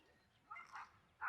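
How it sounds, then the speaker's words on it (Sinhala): Dogs on a guava farm in Sri Lanka give short, faint barks from some distance, three quick yips separated by quiet pauses. "බල්ලෝ ටිකක් ඉන්නවා."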